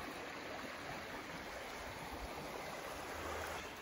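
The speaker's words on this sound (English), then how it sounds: "And these fast moving streams" A fast-moving little stream rushes steadily through a deer-trodden woodland, its broadband water noise constant and fairly close from start to finish, with no voices.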